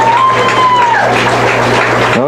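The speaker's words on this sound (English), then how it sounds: "Let's give these 2 teams a round of applause for a very exciting game played tonight." A crowd at an American Legion baseball game applauds both teams after the final out, a continuous loud wash of clapping with a faint tone running over it at first.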